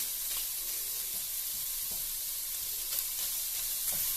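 Pork frying in a home kitchen pan, a steady broadband sizzle with faint crackles and occasional pops, continuous and fairly quiet throughout with no voices.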